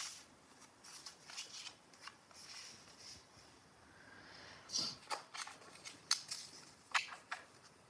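Tarot cards are shuffled quietly and close by, making soft riffling and scattered sharp flicks and snaps that grow crisper toward the end.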